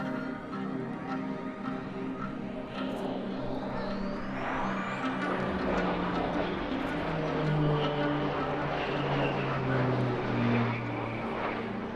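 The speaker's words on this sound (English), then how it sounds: "A series of flybys now from Latvia's national carrier, Air Baltic, and the Airbus A220-300." An Air Baltic Airbus A220-300 airliner makes a flyby at an airshow, its jet roar building and sweeping past with a falling engine tone, loud and sustained for the whole stretch.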